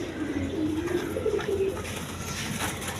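Bombay pigeons coo softly in a low, wavering run of calls, fairly faint and close, over a light background hiss.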